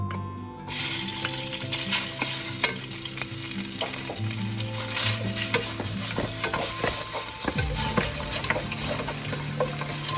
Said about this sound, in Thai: รอให้น้ำมันเดือดนิดนึงร้อนหน่อย แล้วก็ผัดหมูลงไปเลยนะครับ